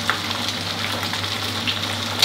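Cabbage frying in plenty of hot oil makes a constant bubbling sizzle up close, alone with no talk.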